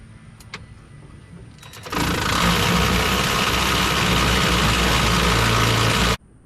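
A tool spins the engine of a 1991 Pontiac Grand Prix NASCAR racer to cycle oil, a steady loud whirring drone that starts abruptly and runs unbroken for about four seconds before cutting off.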